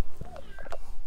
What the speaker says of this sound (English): there goes the kitty cat meowing